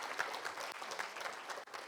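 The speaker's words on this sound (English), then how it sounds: "I think we should give a round of applause to Dr." Audience applause at an SME manufacturing summit in Mumbai, a steady wash of clapping from a crowd, fairly faint and distant, lasting throughout without pause.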